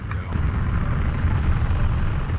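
SpaceX liquid-fueled rocket lifting off to orbit, a loud, steady, continuous roar with deep rumbling low end and broadband crackle that holds throughout.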